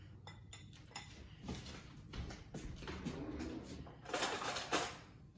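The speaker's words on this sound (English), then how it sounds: "Okay, I'm gonna whisk it well like that." Eggs whisked in a bowl with a little added ingredient while making banana walnut bread, giving faint, irregular clinks and scrapes of the whisk against the bowl, with a louder rattling burst near the end.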